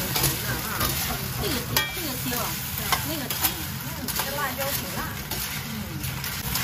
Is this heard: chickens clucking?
no